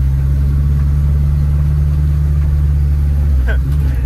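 A 16v turbo VW Rabbit engine with an unfixed idle runs close by, a steady low rumble holding roughly even with little sign of revving, while people talk over it.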